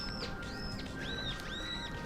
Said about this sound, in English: that bird's going nuts. You hear that thing?